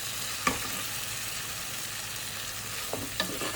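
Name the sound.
stirring onion mixture for chicken curry in a pan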